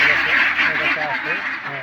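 Ducks quack on a farm, a flock close by making a busy run of overlapping quacks while a person talks over them.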